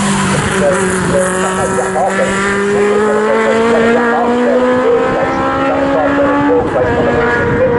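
Legends race cars crossing the start-finish line at Snetterton, with several engines droning loudly and rising steadily in pitch as they pass, while a commentator talks over the racing noise.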